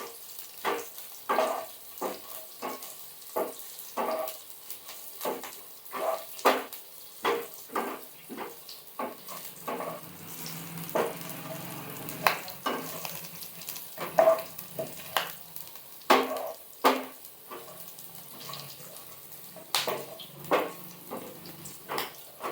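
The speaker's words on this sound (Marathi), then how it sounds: "आता आपण ह्या मिश्रणाला चांगले चमच्याने करून घ्या." A spoon scrapes and stirs fried onion and green chilli in a pan, steady repeated clinks and scrapes over a soft sizzle, close and fairly clear with no talk.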